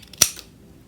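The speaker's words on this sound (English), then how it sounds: "So you're going to take your scissors very carefully and cut off" Scissors snipping through paper in a children's craft lesson: a single sharp, close cut in near silence.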